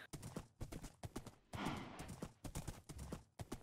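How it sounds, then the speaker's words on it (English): Horse hooves clip-clop in a video game as the animal runs, with loud, steady, evenly spaced hoofbeats and a brief rush of noise partway through. "running around with a horse"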